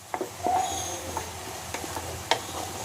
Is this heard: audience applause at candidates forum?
no